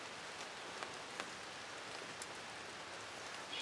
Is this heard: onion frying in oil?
no